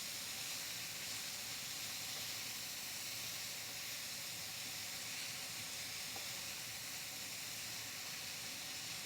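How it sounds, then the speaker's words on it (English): A quarter cup of butter melts in a pan for a roux, giving a steady, even sizzle and hiss that stays at the same level from start to finish, close and unbroken, with no talking. "You're going to want to melt 1/4 cup of butter"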